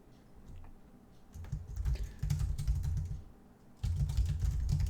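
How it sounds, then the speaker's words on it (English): Rapid typing on a computer keyboard, dense clusters of clicking keystrokes in uneven bursts with a short lull around the middle, close and clear with no talking. "I'm typing something"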